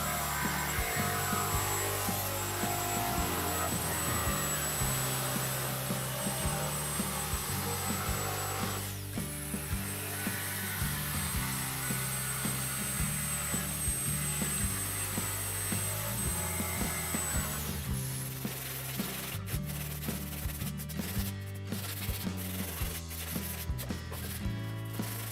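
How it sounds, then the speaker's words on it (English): A jigsaw cuts a traced Les Paul-style guitar body in wood, giving a steady, fairly quiet motor buzz with a rough cutting texture that shifts in tone partway through. "I'm just going to give it a wee whiz through with the jigsaw for it to shape."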